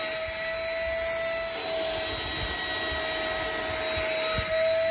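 A handheld ultraviolet bed-mite vacuum cleaner runs steadily at close range, producing a constant whirring motor hum with a high whine and faint rustling as it moves over bedding.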